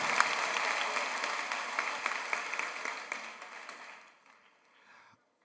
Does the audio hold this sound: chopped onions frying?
no